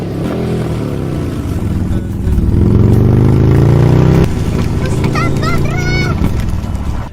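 A motorcycle engine revs and hums close by, rising in pitch for a couple of seconds and then settling, with other sounds over it toward the end.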